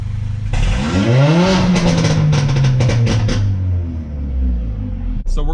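Tuned Mercedes GLA 45 AMG with a Eurocharged stage 2 tune, its warm engine blipped hard from idle: a loud rising rev that peaks and sags back down, with crackles and pops on the overrun before settling into a steady idle.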